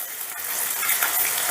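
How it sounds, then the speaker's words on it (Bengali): Shredded cabbage frying on high heat in a pan for vegetarian biryani, giving a steady, close, bright sizzling hiss with faint crackles throughout and no talking. "প্রথমে হাই হিটে বাঁধাকপিটাকে ভেজে নেব"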